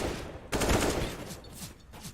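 Pistol fire in a CS:GO match: a loud burst of shots lands early, followed by several quicker, fainter pops and background game sounds.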